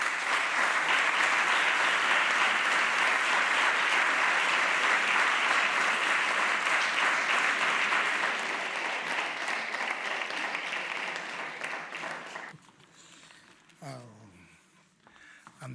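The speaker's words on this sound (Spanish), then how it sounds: "Un aplauso, por favor." An audience applauds at a social work awards ceremony in Aragón, a loud sustained clapping that fades out over several seconds, with a voice briefly heard as it dies down.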